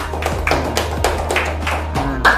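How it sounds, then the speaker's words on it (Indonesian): A small group of ninth-grade students claps in a classroom, a handful of sharp, uneven claps spaced out over a couple of seconds, close and distinct with faint voices underneath. "tepuk tangan untuk kelompoknya, yuk"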